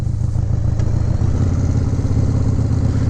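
Engine of a 1997 Harley-Davidson Dyna FXDS Convertible running outdoors in cold snowy weather, a loud, steady, close lumpy rumble with rapid even pulses throughout.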